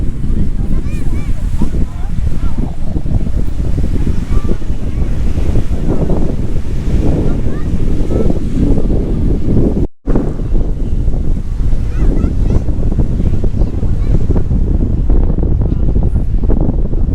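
Waves washing in at a beach, a continuous loud surf roar heavily buffeted by wind against the microphone, with a brief dropout partway through.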